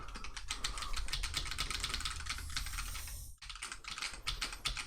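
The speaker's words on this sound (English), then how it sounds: "You can usually hear me because my keyboard go." Rapid, loud clatter of a computer keyboard being typed on continuously, close up, with a brief pause near the end before the keystrokes resume.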